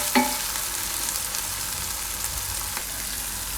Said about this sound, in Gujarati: મરચાંને થોડીક વાર પકાવી લેવું તેલમાં એકાદી મિનિટ માટે.